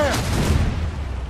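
Ship cannons fire in the video game Assassin's Creed Rogue, a loud, dense boom with rumbling roll-off lasting about a second, close and heavy, with no clear speech over it.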